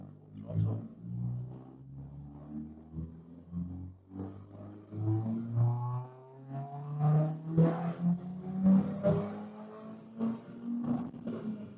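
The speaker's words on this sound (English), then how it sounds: "So let's do a sweep run. Fifth gear, full throttle." Car engine at full throttle in fifth gear during a dyno sweep run, a low droning tone climbing steadily in pitch over about twelve seconds, with someone talking over it throughout.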